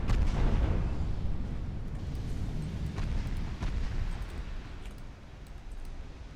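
Torpedoes launch from a warship in the naval battle game Ultimate Admiral Dreadnoughts, a low rumbling whoosh with faint pops and clicks, fading gradually over several seconds.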